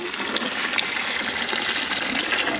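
Plain water poured into a cooking pot of ground chili paste, coriander, mint, ginger-garlic paste and tomato, a steady rushing gush that runs for a few seconds with no talking.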